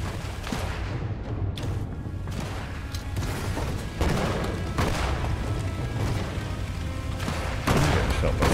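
Gunfire in the Sniper Elite shooter game, a series of loud booming shots with sharp onsets spaced a second or two apart over a constant heavy rumble.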